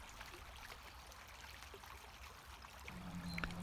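Pymmes Brook flows in a gentle, steady trickle close by, soft and continuous, with a faint low tone creeping in near the end.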